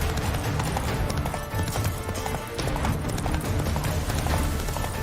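Roach the horse gallops in a race in The Witcher 3, a fast, steady clip-clop of hooves pounding without a break, loud and close, with a faint voice briefly under it.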